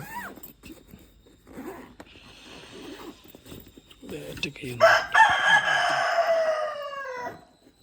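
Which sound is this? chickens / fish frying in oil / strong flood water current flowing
chickens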